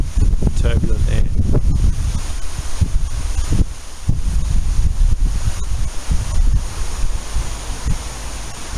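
Wind gusting across an open field where a small wind turbine stands in turbulent air, a loud rumbling buffet on the microphone that rises and falls throughout, with someone talking over it for much of the time.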